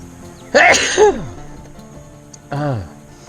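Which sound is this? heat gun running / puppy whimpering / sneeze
sneeze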